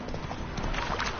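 Hooves of the horse Roach in The Witcher 3 video game: a faint, brief run of soft clip-clop steps over a low, noisy background.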